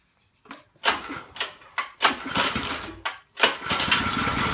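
Homemade trike engine with a new belt and adjusted chain driving the wheels, sputtering in several uneven bursts with gaps between, loud and close, like a small engine struggling to catch and run.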